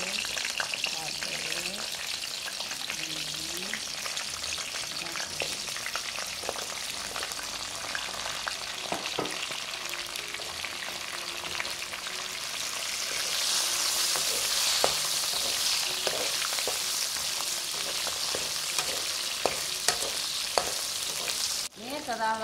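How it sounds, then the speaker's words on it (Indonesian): Garlic and chili stir-fry in a pan for a peanut cilok sauce base, giving a constant loud sizzle with scattered spatula scrapes and taps that grows brighter partway through. "Kita tumis dulu ininya, bawang putih, cabai."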